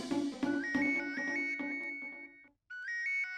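An office telephone ringing in a school principal's office, a repeating electronic ringtone melody, loud and close, with a short gap before it rings again.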